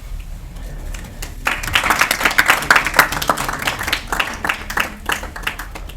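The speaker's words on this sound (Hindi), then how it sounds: "जब भी अतिथि का सत्कार होता है तो जोरदार तालियों के साथ स्वागत किया जाता है" Loud applause from an audience welcoming a guest at a felicitation ceremony honouring the Kho Kho men's and women's world cup winning teams; dense clapping swells after a quiet start and keeps going steadily to the end.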